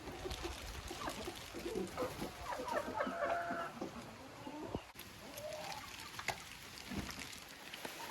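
Laying hens in a coop clucking and murmuring, several birds calling close by in irregular bursts over a constant low background, with quiet voices now and then.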